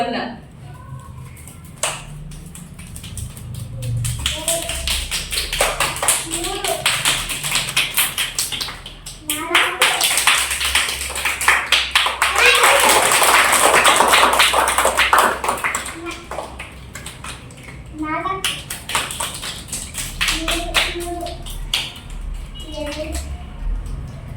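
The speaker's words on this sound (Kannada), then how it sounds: "ಈಗ ಧನ್ಯವಾದ ಚಪ್ಪಾಳೆ" A classroom group claps in a steady Nali Kali thank-you rhythm for a long stretch, swelling louder in the middle before thinning out, with voices now and then.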